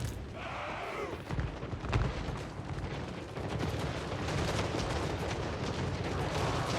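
Hellstorm rocket artillery in Total War: Warhammer fires in a rapid string of crackling bursts and booms over dense battlefield din, fairly faint and continuous without speech.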